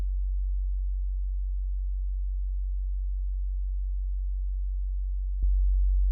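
A low sine tone around 50 Hz from the PSP InfiniStrip plugin drones steadily, then a small click near the end as it jumps a touch louder.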